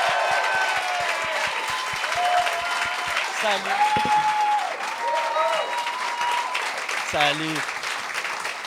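Studio audience applauding two guests on a talk show: steady, dense clapping throughout, with speech and brief voices laid over it.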